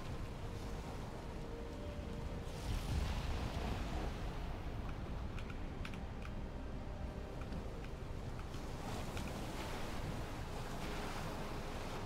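Ocean waves in Valheim surge and wash continuously over rocks with a rushing, wind-blown roar that swells and recedes.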